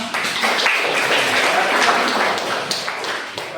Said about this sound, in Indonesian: Boleh tepuk tangan.